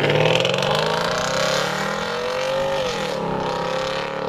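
Porsche Cayenne S 4.5-litre V8 engine revving loudly and close, pitch climbing and easing off over a few seconds with no talking.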